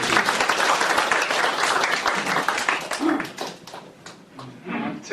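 Dense, loud applause from a lecture audience at a Korean philosophy colloquium, welcoming a speaker to the front; sustained clapping that thins out toward the end, with a few scattered claps and faint crowd noise.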